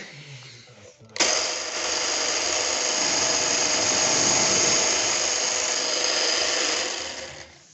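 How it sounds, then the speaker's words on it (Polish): A multi-spindle drilling machine cuts into a wooden furniture panel, a loud, steady whining drone that starts abruptly and holds for several seconds before winding down. "No to wiercimy."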